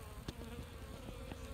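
Honey bees crowd a single hive frame, several hundred of them, giving a steady, close, faint droning hum with no voices.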